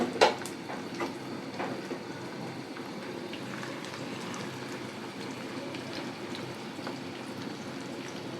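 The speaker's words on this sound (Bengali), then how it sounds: "তো বাকি চিকেনটাকেও সেমভাবে ভেজে নিতে হবে।" Chicken chaap, restaurant style, frying in oil: a steady close bubbling sizzle runs throughout, with a few sharp pan clinks near the start and no talk.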